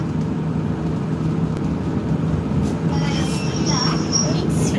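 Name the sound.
Dutch intercity train moving fast, heard on board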